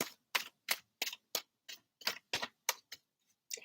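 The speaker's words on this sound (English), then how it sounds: "We'll keep shuffling" Tarot cards are shuffled by hand in a series of crisp, evenly spaced riffling snaps, about ten distinct bursts in close succession, close and clear with no talking.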